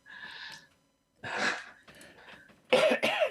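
A few throaty coughs in separate bursts, close and fairly loud, with a short pause between the first and the last two.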